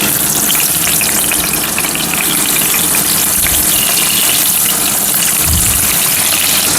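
Three bacon strips fry loudly in a pan with a dense, constant hiss and crackle, close up, plus a few low bumps along the way.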